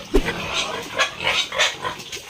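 Several short grunts from a young female pig repeat irregularly, close by, with rustling and faint background noise.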